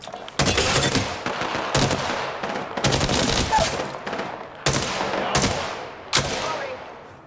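Gunfire in Apex Legends comes in loud, close bursts of rapid automatic shots, about five sharp volleys separated by short gaps, each ringing off with a brief decaying tail.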